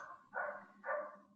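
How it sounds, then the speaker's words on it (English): A neighbour's dog barks twice, mid-loud and a little distant, with two separate barks about half a second apart over a quiet indoor background. "I think we have a dog who's trying to join the conversation."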